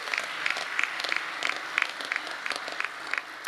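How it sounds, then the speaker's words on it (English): A crowd at a political conference in a large venue applauds in a steady, fairly distant burst of clapping, with no speech over it. "How about a round of applause for"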